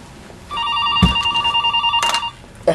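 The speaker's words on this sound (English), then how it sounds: "Why are we getting the phone call?" A phone rings with an incoming call in a room, giving two steady ringing bursts of about a second and a half each with a brief pause between, loud and close, with a short knock near the end.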